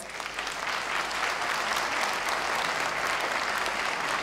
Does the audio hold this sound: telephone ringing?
no